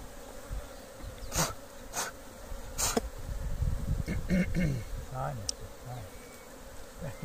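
Italian honey bees buzzing around a honey harvest, a close, wavering hum with passing bees drifting near and away, interrupted by a few sharp knocks and clatters of handling and brief voices in the background.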